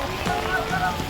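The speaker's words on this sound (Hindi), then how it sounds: "बारिश भी हो रही है और ये देखिए ये बर्फ़ भी" Rain and snow fall together in the mountains, a soft, steady hiss of precipitation with faint wind and distant murmuring voices beneath.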